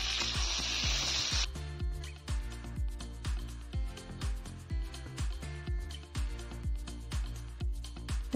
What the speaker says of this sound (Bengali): করলাগুলো এবার ভেজে নেব।